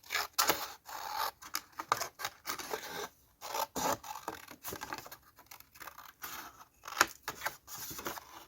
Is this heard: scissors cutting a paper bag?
yes